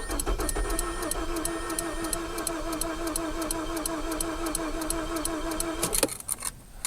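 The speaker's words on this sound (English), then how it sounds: "I'm hearing the fuel pump." A Mazda 6 in a no-crank, no-start condition, its electric fuel pump running as a steady whirring hum with a rapid, regular ticking pulse over it, close by, ending with a brief clunk.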